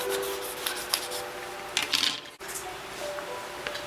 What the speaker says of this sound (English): give it a good wet sand and make sure that I have a nice smooth mating surface